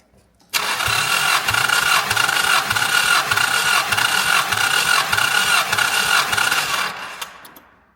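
1988 Chrysler Conquest Turbo barn find cranking without starting, a rapid rhythmic starter churn running loud and close for about six seconds before winding down.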